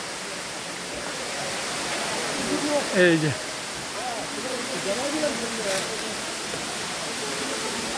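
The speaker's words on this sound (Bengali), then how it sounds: "চলে আসছি ধূপপানি ঝর্ণা, অসাধারণ।" Steady broadband rush of the Dhuppani waterfall, continuous and fairly loud throughout, with a person speaking briefly near the middle over the falling water.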